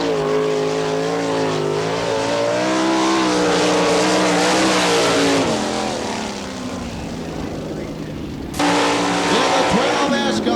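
Sprint cars from the All Stars and NCRA series race laps on the Wichita, Kansas track, the roaring engines sustained and loud as they pass, easing off briefly before surging again.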